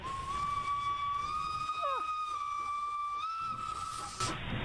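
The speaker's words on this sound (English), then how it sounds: "That actually has a whistle now!" Steam locomotive whistle in the Minecraft Traincraft mod, a sustained steady tone held for about four seconds with a brief pitch shift partway, over a faint background hiss, then cutting off abruptly.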